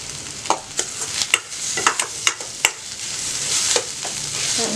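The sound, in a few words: stirring egg idli upma frying in a pan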